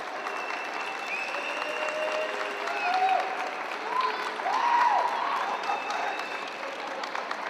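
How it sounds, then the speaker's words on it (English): An esports arena crowd at the women's CS2 European Championship in Kosovo applauds the France national team, with steady, sustained clapping and some cheering swelling in the middle of the stretch. "Make a round of applause for France national team."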